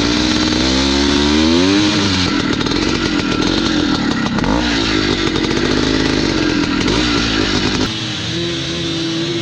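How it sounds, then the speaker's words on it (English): A 1971 Husqvarna 450 motorcycle tears around a motocross track, its two-stroke engine loud and close as it revs up and down through repeated acceleration and throttle changes, easing slightly near the end. "We're gonna ride the Husky 450, 1971, I guess it is."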